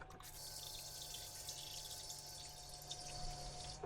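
Fresh water runs from a jug inside a van in a steady, unbroken stream with a faint splash, close by and fairly quiet, with no talking.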